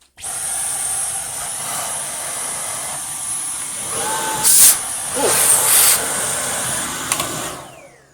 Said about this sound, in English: One lightly used Dyson digital motored cordless cleaner.